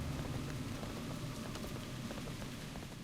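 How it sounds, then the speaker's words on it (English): Steady rain falls in the dark, gloomy Duskwood zone of World of Warcraft, a dense continuous patter and hiss at an even, moderate level with no talking over it. "It's raining."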